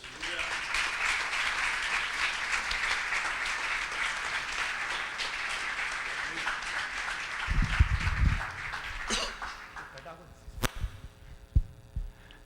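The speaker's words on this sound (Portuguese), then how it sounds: "Aplauda o nome de Jesus." A church congregation applauds in steady, full clapping for most of the stretch. It then thins out and fades, leaving a few scattered thumps and claps near the end.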